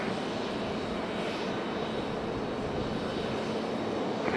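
A United Embraer E175 jet roars steadily through its takeoff run on a runway, a loud, broad, unbroken engine rush with no voices.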